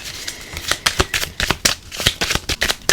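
Tarot cards shuffled by hand at close range, a rapid run of crisp riffling snaps and slaps repeating steadily with no talk over them.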